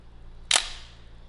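A single sharp click of an analog film camera shutter firing at its fastest 1/1000 second speed, brief and crisp against a quiet room hum.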